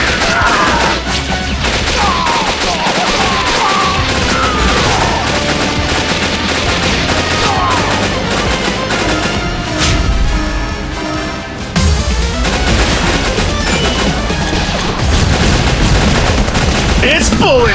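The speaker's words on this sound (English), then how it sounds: "Heavy machine gun." Heavy machine gun fire in the arcade shooter Metal Slug Awakening hammers continuously and loudly, mixed with explosions, crashes and game music, with one brief dip before the barrage resumes.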